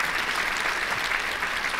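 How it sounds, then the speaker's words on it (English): Brief, steady applause on a live Carolina Panthers show. The clapping is dense and moderately loud and keeps an even level throughout, with no voices over it. "Give that man a round of applause."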